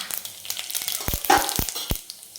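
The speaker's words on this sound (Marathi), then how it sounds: "मोहरी छान एकदम फुलून द्यायची आपल्याला एकदम छान तडकली पाहिजे बघा असा सटसट आवाज येतो" Mustard seeds spluttering in hot oil while tempering for a dry chavli-potato bhaji: a close, steady sizzle broken by sharp, irregular pops and crackles.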